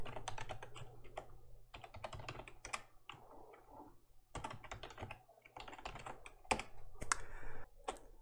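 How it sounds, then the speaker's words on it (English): Fingers typing a username and password on a computer keyboard, a steady stream of close, quiet key clicks with brief pauses between bursts. "Let's type in username and password."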